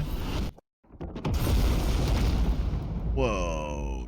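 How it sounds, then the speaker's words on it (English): A nuclear explosion in DarkSwitch, a vertical city builder set in a giant tree. A brief silent gap gives way to a long, loud, roaring rumble, and a voice exclaims near the end. "Whoa, nuclear explosion."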